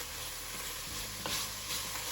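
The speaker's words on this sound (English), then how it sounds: "Give the bacon a stir." Bacon fries in a pot with a dense, even sizzle, and a spoon stirs through it once or twice with a soft scrape, close and moderately quiet.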